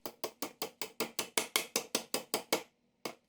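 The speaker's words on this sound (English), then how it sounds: "and then hammer it in." A drive fastener is hammered into a mixed-material four-drawer dresser with about fifteen sharp, evenly spaced blows in quick succession, a short pause, then one last strike, loud and close.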